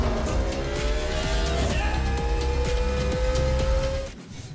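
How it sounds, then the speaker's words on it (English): A high-performance sports car's exhaust growls loudly and steadily, rising in pitch toward a sharp, piercing squeal as the engine revs, then drops away abruptly at the end. "The exhaust system on this car begins with a high-pitched growl and builds to an ear-piercing squeal."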